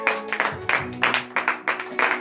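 Rhythmic clapping from a congregation at a church morning prayer service in Benin, steady repeated claps over about two seconds, fairly close and full, with faint voices mixed in.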